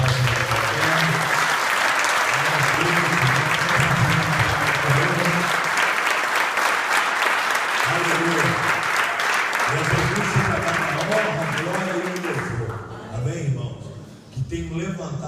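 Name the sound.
church congregation applauding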